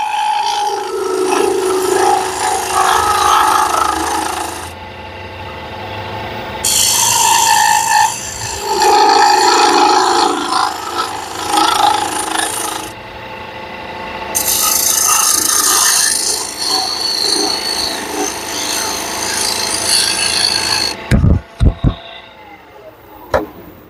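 A woodturning gouge with its flute slightly closed is dragged slowly across spinning wood, giving a steady close rasping scrape in several long passes separated by short pauses, ending with a few sharp knocks.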